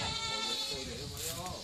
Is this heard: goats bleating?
yes